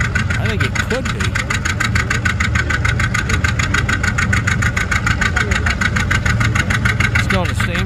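An antique John Deere 80 tractor engine labors at a tractor pull, a loud, steady, rhythmic thumping drone filling the whole clip, with a voice talking over it.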